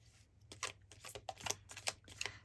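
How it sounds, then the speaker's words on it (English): Crystal cards being shuffled by hand, a quick series of soft, crisp riffling slaps and flicks close up, faint and steady over a low background hum, with no talking. "I'm also going to shuffle these crystal cards here."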